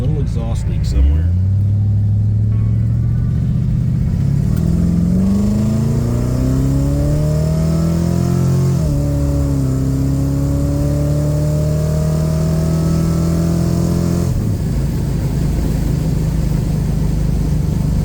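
A car engine fitted with a homemade dual exhaust revs up and settles, rising and falling in pitch with a loud, close, rumbling crackle and a slight exhaust leak, someone talking over it.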